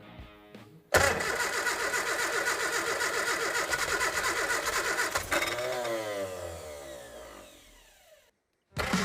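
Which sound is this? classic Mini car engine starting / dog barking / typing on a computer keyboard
classic Mini car engine starting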